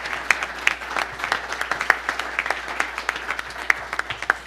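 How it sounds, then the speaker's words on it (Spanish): Audience applause at a corporate governance event in Mexico, a moderately sized crowd clapping steadily with sharp individual claps standing out, fairly distant and even throughout. "Un fuerte aplauso"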